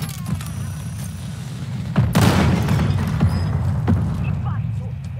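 Bursts of gunfire in the video game Call of Duty Warzone, Resurgence mode on Rebirth, with a loud broadband blast near the middle over a steady noisy game background.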